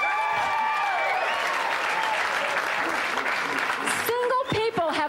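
A live comedy show audience breaks into loud applause and cheering, with whoops and whistles over steady clapping before it thins out near the end.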